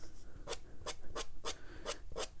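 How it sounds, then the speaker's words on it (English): Six evenly spaced rasping scrapes as a pointed tool drags through wet watercolor paint on paper to make thin grass strokes, close and fairly quiet, with no talking. "You can even scrape up some grasses here."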